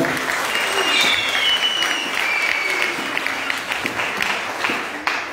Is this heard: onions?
no